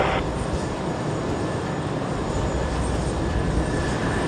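British Concorde jet engines roar at full power during a takeoff run, a loud, steady, broadband rumble with no pauses.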